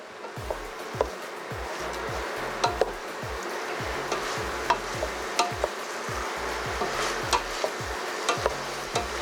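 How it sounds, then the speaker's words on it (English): A spoon scrapes the bottom of a pot of sweet and spicy Mexican soup, with repeated rhythmic scraping strokes over a soft simmering bubble, close and fairly quiet, with no talking. "Try to make sure I scrape that bottom and get that goodness off the bottom."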